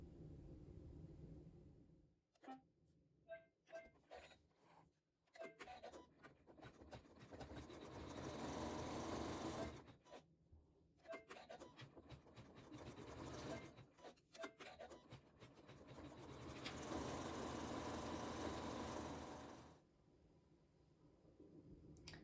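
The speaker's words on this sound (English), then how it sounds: "the machine will do a pretty stitch over the top of the satin stitch" An embroidery machine stitches a decorative thread over satin stitching on a placemat, running in a steady mechanical whir with short pauses and a few clicks between bursts, close and quiet, no voices.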